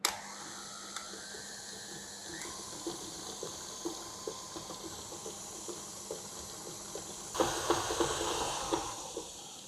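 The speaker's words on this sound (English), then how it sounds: "I'm going to continue beating the butter and the sugar for about 5 minutes" An electric mixer beats butter and sugar for eggless butter cookie dough, giving a steady whirring hiss with a soft repeated tapping rhythm, and the sound grows louder and rougher near the end.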